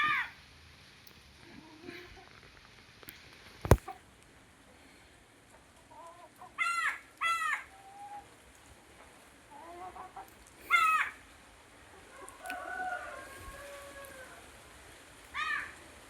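Free-range chickens cluck and squawk in short bursts at moderate distance, with a sharp knock early on and quiet ambient background between calls.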